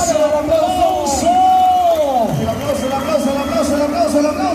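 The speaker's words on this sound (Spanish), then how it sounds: "no hay mejor medicina para un jinete lastimado que el aplauso de la gente que lo vino a ver." Rodeo crowd at a ranch-team bull-riding tournament in San Juan Mixtepec applauds and cheers for an injured rider, a dense steady roar of clapping and shouts with a whooping voice rising and falling over the noise.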